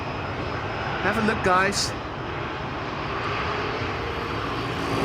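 Etihad Cargo aircraft approaching Amsterdam Schiphol, a steady engine roar holding at moderate distance for the whole stretch, while someone speaks briefly over it near the start.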